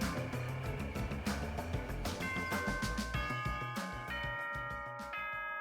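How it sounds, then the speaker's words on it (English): A school bell chime inside the video game Danganronpa 2 rings out in clear, sustained bell tones over a busy musical background, with several struck notes ringing on toward the end. "Is that a school bell just now?"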